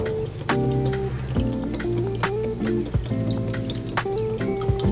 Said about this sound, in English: and whisk it up, but you can also use a fork. You don't have to use a wire whisk.